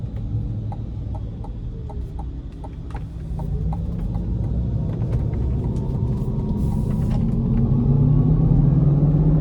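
A 2024 GMC Hummer EV pickup with two electric motors accelerates, its low road and motor rumble building steadily louder and deeper from inside the cabin, with faint rhythmic ticking and no speech.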